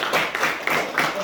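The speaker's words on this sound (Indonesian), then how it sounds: "Aplaus untuk anak-anak Bapak semua." Students in a classroom clap together for about a second, a quick run of close, crisp claps with no talk over it.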